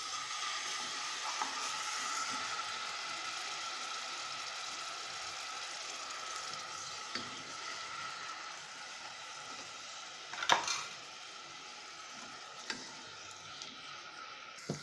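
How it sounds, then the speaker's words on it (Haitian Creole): Spices frying in hot oil in a pot for a dish of wheat with red beans, a soft, steady sizzle held low and even throughout, with a few faint clicks and knocks of utensils. "Ok, épice qui est bien frit là."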